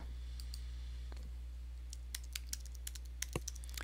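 Someone types a file name on a computer keyboard, a few scattered soft key taps early, then a quicker run of crisp clicks near the end over a low steady hum.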